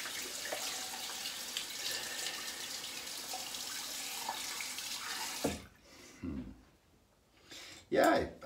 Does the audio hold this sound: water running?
yes